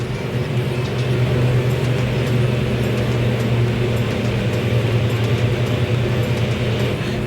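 A Hisense Bubble Clean 8 kg top load washing machine running, a steady loud mechanical hum and drone with faint rattling vibration, continuous and close by with no talking.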